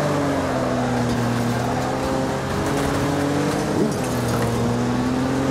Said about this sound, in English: Now that's what you call wall riding, Mr. Gonzo.